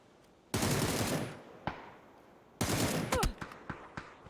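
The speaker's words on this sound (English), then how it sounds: "You can hear the shots coming over." Gunfire in the video game PUBG, with two long bursts of rapid automatic fire, then a run of scattered single shots of varying loudness, separated by quieter gaps.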